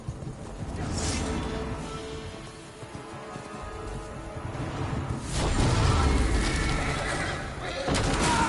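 A horse whinnies loudly in The Witcher 3: Blood and Wine on PS5, its neigh rising over a dense backdrop of rumbling effects and faint voices.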